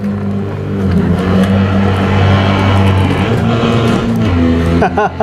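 Fiat Abarth 595 engine in the Assetto Corsa racing game revving steadily and loudly, holding a sustained droning pitch while sliding through a turn, with a brief change near the end.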